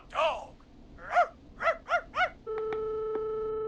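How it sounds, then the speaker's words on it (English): A junkyard dog in the horror video game Killer Frequency barks in a run of five spaced, mid-loud barks. A steady electronic busy-signal tone follows right after. "You just let loose the junkyard dog."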